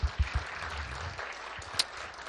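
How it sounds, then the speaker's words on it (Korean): A church congregation at a Friday evening worship service applauds the praise team, a soft, diffuse patter of clapping at moderate distance with a few heavier low thuds near the start. "오늘 수고하신 우리 찬양팀에게 우리 격려의 박수 부탁드립니다"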